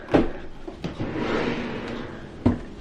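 A makeup storage drawer slides open and shut with a few clunks and a soft rolling scrape between them, close by in a quiet beauty room.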